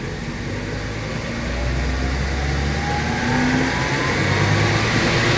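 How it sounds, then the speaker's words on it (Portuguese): Chevrolet Corsa engine revving up as the throttle is opened, a steady mid-pitched drone rising in pitch and loudness over several seconds, close by with no talk. "Agora vamos acelerar aqui."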